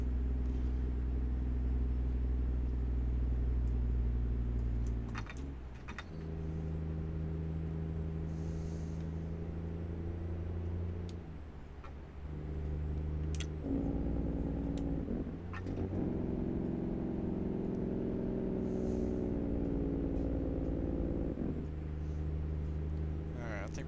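A semi truck's diesel engine drones continuously from inside the cab, with a Jake engine brake adding deeper, harsher stretches of loud rumble that shift in pitch as the truck slows on the road.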